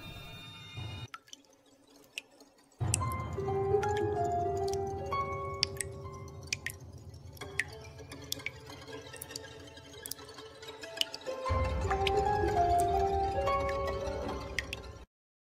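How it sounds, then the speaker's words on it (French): Quiet, irregular water drips plop one after another, some with a hollow ringing tone, in an otherwise still room with no tap running. "Des bruits de gouttes d'eau sont entendus alors qu'aucun robinet n'est ouvert."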